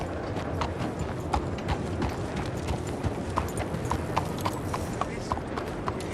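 Horse hooves clop at a steady walking rhythm in Red Dead Redemption 2, close and clear, over a soft ambient background.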